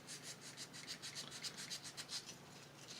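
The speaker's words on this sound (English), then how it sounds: "I'm just going to do a little bit of sanding so that the glue" Small plastic pieces from a 1990 Blue Squadron X-Wing model kit are sanded by hand in quick, even back-and-forth strokes, a soft, close, dry rasping that repeats steadily with no talking.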